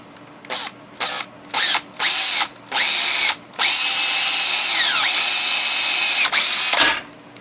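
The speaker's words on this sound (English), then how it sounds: "drill a quick little hole in here." Power drill boring a small hole in a patio light, first in several short bursts that spin up and stop, then one long steady run whose pitch dips as the bit bites, loud and close.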